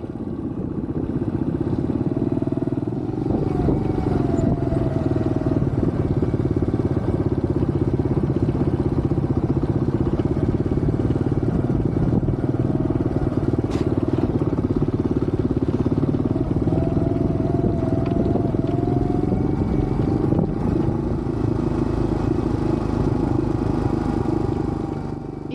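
An off-road motorcycle riding a trail back toward base camp at Sweet Lamb in Wales, a steady engine drone at a constant loud level with rattles and revving swells, heard continuously up close.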